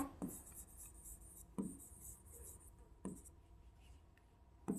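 Marker or chalk strokes on a classroom board during an English grammar lesson, four short scratchy bursts at roughly 1.5-second intervals, faint and close, with no talking over them.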